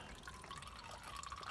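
Engine oil draining from a 2017 Nissan Altima: a faint, steady trickle and patter of liquid running into a pan, continuous and unbroken, with no talk.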